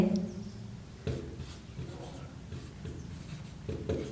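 Chalk or marker scratching on a board during a maths lesson, a few soft strokes and taps at a close distance, with faint talk in the background.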